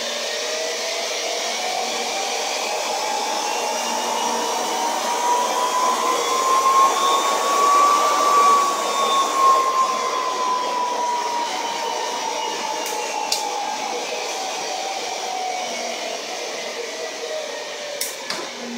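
An electric motor on a test run spins up turning counterclockwise, giving a loud, steady whirring whine whose pitch rises and then eases back down, with faint ticks near the end.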